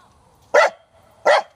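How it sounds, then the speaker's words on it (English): A dog gives two sharp, loud barks about three-quarters of a second apart, aimed at a turtle in the water outdoors, with faint background hum between them. "So he's barking at the turtle."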